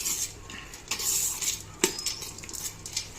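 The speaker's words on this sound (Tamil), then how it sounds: "இதுதான் ரெண்டே கலக்காக கலக்கி விட்டுடலாம்." Metal utensil scraping and clinking against a pot, a few stirring strokes with sharp clanks, close by, no talking.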